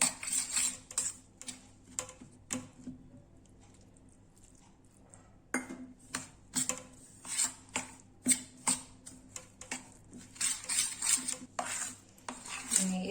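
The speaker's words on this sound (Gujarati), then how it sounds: "તો હવે આપણે આ પાવડરમાં થોડોક મિલ્ક એડ કરીશું અને પ્રોપર મિક્સ કરી નાખશું એને" A spoon mixes milk into crushed Oreo biscuit powder in a bowl, with quick rhythmic scraping and clinking strokes, a brief quieter pause, then steady repeated clinks close by.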